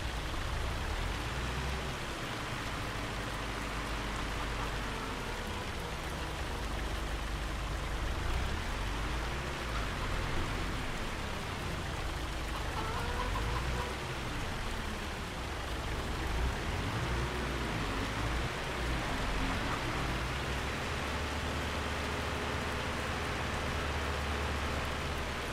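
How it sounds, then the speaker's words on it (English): Hail pours down constantly in a Farming Simulator 25 storm, a loud, even hiss of pelting ice with a low rumbling wind layer underneath and no voices. "Get away from the hail."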